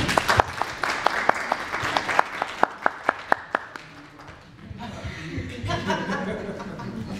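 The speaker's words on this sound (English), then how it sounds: "let's give them all a round of applause" Audience at a civic association meeting claps for an arriving panel, sharp distinct claps in the first few seconds giving way to a softer murmur of crowd noise and light chatter.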